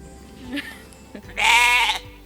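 A person imitates a Highland cow call with a loud, drawn-out bleating voice held for about half a second after a few brief vocal sounds, standing alone near the listener.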